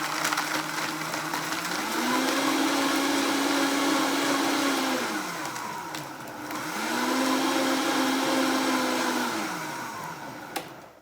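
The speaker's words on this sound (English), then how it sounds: "now it's gonna get loud for a couple seconds, but you don't have to blend this for very long" A kitchen blender crushes ice for a keto frosted lemonade, running loud and steady in two long bursts of roughly four seconds each, its pitch rising as the motor spins up and sagging as it slows between them.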